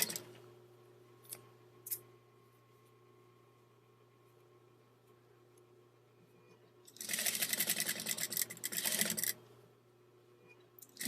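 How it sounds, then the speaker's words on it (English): A sewing machine fitted with a zipper foot stitches along a pillow zipper, a dense burst of needle whirring from about 7 to 9 seconds after a few faint clicks and a quiet stretch, with no talking. "Just run up the length of the zipper with my zipper foot right along the edge."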